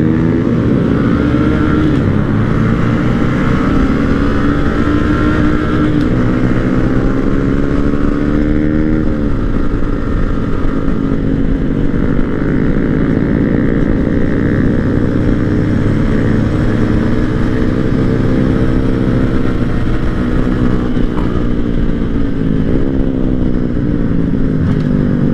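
A line of Porsche cars drives past one after another on a mountain road during a small-bore rally group ride. Their engines drone loud and continuous with shifting pitch as each car passes close by, with no talk.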